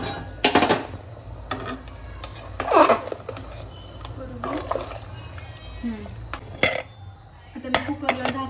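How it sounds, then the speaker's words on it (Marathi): Hot water poured into a pressure cooker holding rice for veg pulao, with clinks of a metal pot and utensil, splashes and a short pour, close by, while someone talks over it. "आता मी इकडे गरम पाणी केलं ते त्यामध्ये टाकते."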